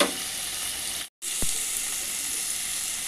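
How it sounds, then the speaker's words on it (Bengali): Crabs sizzle in a hot pan as they fry toward red for a crab curry. The frying noise is loud and constant, broken by a brief cut and a single sharp clink. "কাঁকড়াগুলো লাল লাল করে ভেজে নিচ্ছি"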